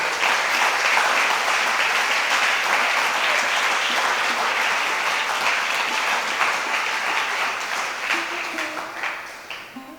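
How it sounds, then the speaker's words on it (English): A crowd applauds steadily with dense, close clapping that holds for several seconds before gradually thinning out. "you can give them a round of applause"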